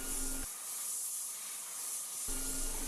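Airbrush spraying paint while detailing an RC pilot figure, a steady airy hiss that is louder at the start and end and softer in the middle, with no talk.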